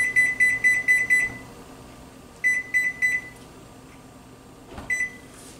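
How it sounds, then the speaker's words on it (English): A kitchen timer being set beeps in quick bright bursts: a fast run of five double beeps, a pause, four more, then a single short chirp near the end, close and clear over a low room hum. "I'm going to set my timer."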